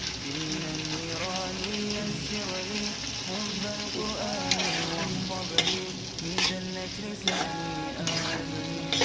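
Boiled chickpeas are stirred into onions and chilies frying in a pan, with a steady sizzle and repeated scraping strokes over background music.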